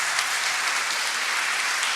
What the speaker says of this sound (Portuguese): Vamos aplaudir a palavra do Senhor para a nossa vida.